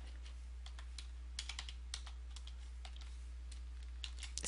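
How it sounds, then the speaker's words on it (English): Rapid typing on a computer keyboard, a run of crisp, close clicks in uneven bursts over a steady low hum. "And copy our WebKit. And oh, type our Moz."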